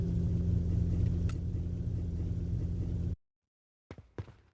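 A cammed Nissan Skyline engine in a car video game, idling with a lumpy, loping low rumble for about three seconds before cutting to silence, followed by two faint short bursts.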